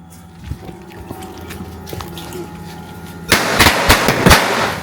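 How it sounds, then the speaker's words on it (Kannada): Firecrackers being set off: after a quiet stretch, a burst of loud, sharp cracks and pops erupts and keeps crackling in rapid, irregular succession until the end. "ಪಟಾಕಿ ಬಿಡತ್ತು"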